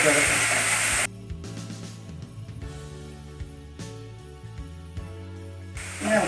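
Green chillies fry in hot oil for dragon chicken, giving a loud hissing sizzle at first that drops to a quieter crackle under faint voice, then surges back near the end.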